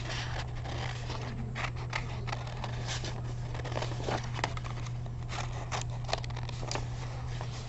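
Repeated snipping and paper rustling from scissors cutting, close and fairly quiet, with a steady low hum underneath.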